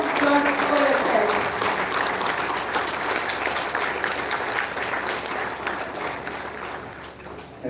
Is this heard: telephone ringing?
no